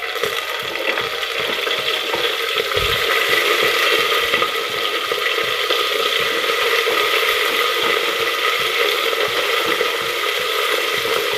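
Chickpeas and vegetables frying in a pan for a vegetarian chickpea curry, with a steady broadband sizzle running throughout and faint scraping from stirring, close and fairly loud, with no talking.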